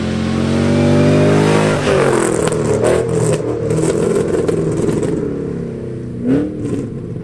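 A 2005-2014 Ford Mustang S197 with a 3-valve V8 and a Steeda axleback exhaust revs loudly up close, then drops back into a rough, rumbling idle.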